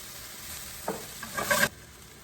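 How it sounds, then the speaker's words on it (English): Zucchini and tomatoes sauté in a hot pan, a soft background hiss that swells into a louder sizzle and stirring scrape for under a second before dropping back. "We need to give our zucchini and tomatoes probably about a minute and a half to finish cooking"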